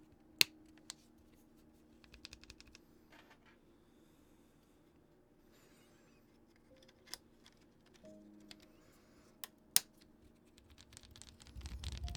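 Sparse clicky keystrokes on a bare keyboard with no case and no keycaps, a few sharp isolated taps spaced seconds apart over a quiet background, with a low hum and rising noise at the end.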